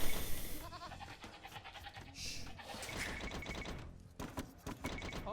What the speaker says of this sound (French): Allez, du coup, on ramène les moutons.